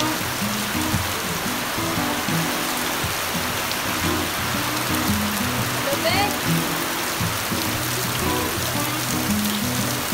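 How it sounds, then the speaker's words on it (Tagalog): Steady rain pours down nearby, a dense continuous patter on the ground and roof with drips falling from the roof edge and a faint low murmur underneath. "Tapos si Jaguar, eto, maliligo siya sa ulan."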